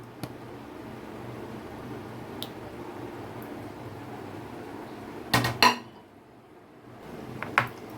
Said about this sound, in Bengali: দুধটা দিয়ে আমি খুব ভালো করে দেখুন মিশিয়ে নিয়েছি আর আমি এই স্পেকুলার সাহায্যে মিশিয়েছি